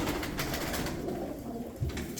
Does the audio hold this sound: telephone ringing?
no